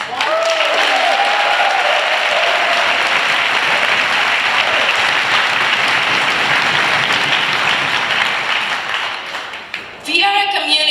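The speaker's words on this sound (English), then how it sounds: "Let's give a huge round of applause" A rally crowd gives a big, loud round of applause for a community music group, sustained dense clapping that fades out near the end before a voice starts.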